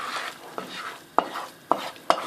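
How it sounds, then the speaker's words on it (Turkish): Semolina-flour halva roasting in a pan is stirred with a utensil, a soft continuous scraping with a faint sizzle, punctuated by a few sharp clinks of the spoon against the pan at roughly half-second intervals. "Yalnız iyice karıştırmamız gerekiyor."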